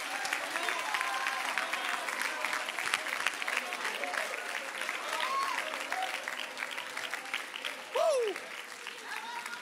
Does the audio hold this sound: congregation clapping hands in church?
yes